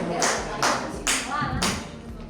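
Four sharp hand claps land at a steady, even pace, loud and close. Each one is a swat in a game where mosquitoes are counted.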